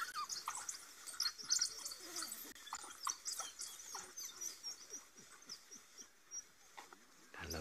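African wild dogs squitter in a series of high, twittering chirps and squeaks, close and fairly loud in short bursts over a quiet evening bush background, with no talking.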